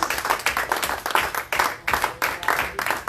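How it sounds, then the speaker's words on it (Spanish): Congregation clapping in rhythmic bursts at a church prayer service, steady rounds of applause filling the room with brief dips between waves. "Dale un aplauso fuerte a Jesús."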